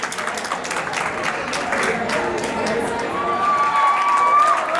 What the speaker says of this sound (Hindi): तालियां बजती रहनी चाहिए आदर्श के लिए.